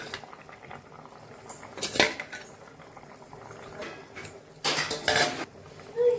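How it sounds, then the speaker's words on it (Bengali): A metal pot lid is lifted and set down while egg-potato curry simmers, giving two bright clattering clinks a few seconds apart over a soft, steady background. "মাঝখানে ঢাকনাটা তুলে নিচ্ছি ডিম 4টে দেওয়ার জন্য।"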